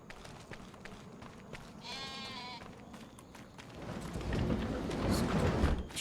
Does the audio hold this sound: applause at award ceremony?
no